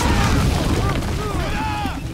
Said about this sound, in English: So I threw a grenade on them, they all died.